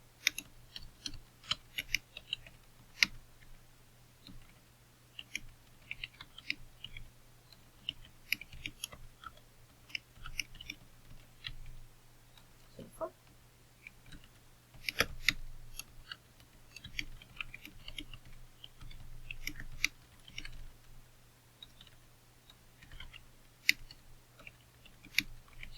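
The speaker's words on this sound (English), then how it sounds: "we're just going to start typing the quotation" Computer keyboard typing while a quotation is entered, irregular bursts of light, close key clicks with short pauses over a faint steady hum, no voices.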